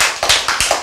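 Hands clap in a quick burst of about five sharp claps at an uneven rhythm, loud and close, with no talking during them.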